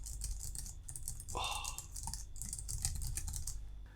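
Logitech MX Keys Mini keyboard typed on steadily, soft rapid key taps in a continuous stream up close over a low background hum, with one brief tonal sweep partway through.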